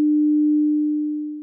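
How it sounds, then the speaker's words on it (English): A computer-generated sine wave from a sound library inside a Unity VR project plays as one pure, steady, fairly loud tone that holds level, then fades slightly before cutting off. "I'm able to generate simple sounds like sine waves,"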